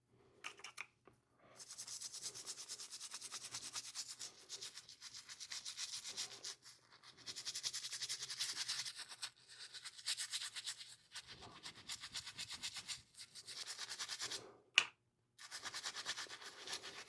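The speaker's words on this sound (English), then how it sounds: "I brushed that for a couple of minutes" A soft-bristled toothbrush scrubs with water in repeated quiet bursts of rubbing, pausing briefly between strokes, close and faint, with no voices.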